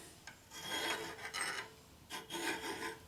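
Hand file rasping along the cut metal edges of a part from a 1972 Harley-Davidson Ironhead Sportster 1000cc, deburring in three distinct bursts of strokes separated by short pauses, close and fairly loud.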